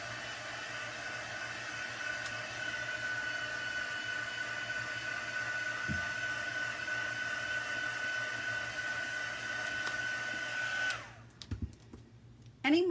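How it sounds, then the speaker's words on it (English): A heat gun blows hot air to dry chalk paste on a craft transfer, a steady loud whoosh running unbroken for about eleven seconds before cutting off, followed by faint handling noises. "Let's hit this with the heat gun."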